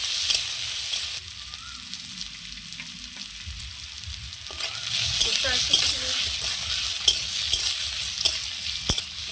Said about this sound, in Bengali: দেখুন, চাল পেঁয়াজ একসঙ্গে আমি ভেজে নিচ্ছি।